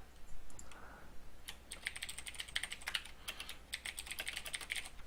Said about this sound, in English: Mute my mic because my keyboard is loud.